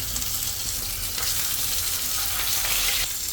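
Cooking oil sizzling steadily in a wok ahead of frying pomfret, a dense continuous hiss that stays close and even throughout with no voices over it.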